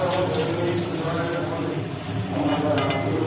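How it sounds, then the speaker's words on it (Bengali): Pieces of kakrol (spiny gourd) and pointed gourd frying in a pan, heard as a continuous sizzle with stirring noises throughout, steady and fairly close, with voices underneath. "কাঁকড়েল ভাজাগুলো বেশ সুন্দর লাল লাল ভাজা হয়েছে"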